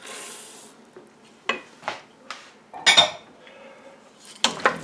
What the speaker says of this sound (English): A bit of a stir.